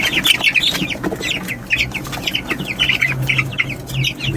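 Poultry flock crowding in to feed after an organic vaccination mix is set out, with close, steady clucking from many birds and faint wing flaps.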